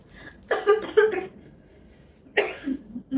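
A woman coughs in two bursts, a quick cluster of several harsh, close coughs followed after a pause by another short fit, loud and near with no talking.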